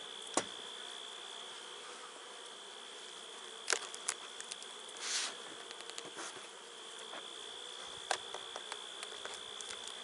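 Steady, faint insect buzzing of many honey bees near and far at a hive entrance, with occasional sharper ticks and a brief louder hum as one passes close.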